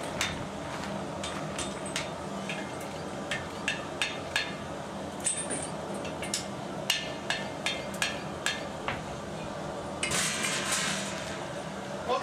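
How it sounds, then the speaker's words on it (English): A hammer strikes a white-hot iron chain link during forge welding, sharp metallic blows landing in a loose, irregular series over a low workshop background. "When I bring it out and strike it with a hammer, I'm going to force the two surfaces together so it becomes one continuous piece of chain."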